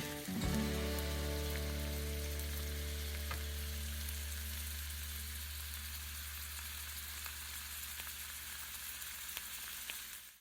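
Rice noodles and sliced shallots stir-fry in a hot pan for Vietnamese seafood chow fun, a steady loud sizzle with a low rumble that eases slightly over time, with a few faint scrapes and no voices.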